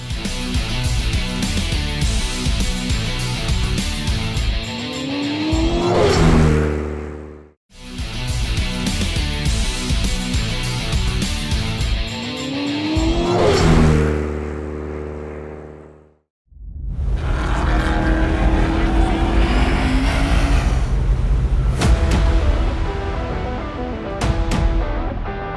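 Fast cars at the Simo Hill Climb 2024 in Neisner roar past in three loud passes, each engine note climbing as it revs up through the gears and then falling away, with deep rumble throughout and brief gaps between runs.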